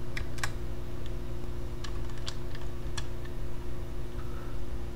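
A password being typed on a computer keyboard, with a handful of soft, irregular key clicks over a steady low electrical hum.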